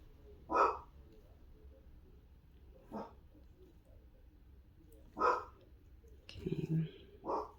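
A dog barks four times, single sharp woofs spaced a few seconds apart in a quiet room, with a brief clatter between the last two.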